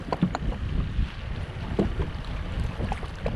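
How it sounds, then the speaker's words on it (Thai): Strong wind blows over the water beside a fishing boat anchored near a bridge, with heavy gusty rumble buffeting the microphone and faint splashes and knocks, steady and close throughout. "ลมมันแรงมาก"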